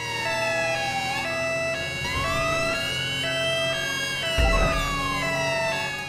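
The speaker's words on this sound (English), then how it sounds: "Because I do like that siren and that one." A wailing electronic police siren in GTA V sweeps up and down continuously, with several overlapping siren tones and a brief thump near the end, steady and fairly loud.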